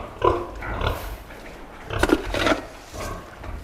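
Pigs and sows in a barn at feeding time grunt and squeal loudly in several bursts, close by and overlapping, with no talk.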